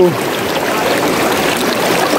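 Waves lapping against rocks, a loud, steady nearby rush and slosh of water running through the whole moment.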